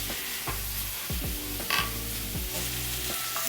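Mushrooms fry in a generous pour of olive oil in a crowded pan, giving a steady close sizzle with repeated scraping and stirring strokes throughout and no talking.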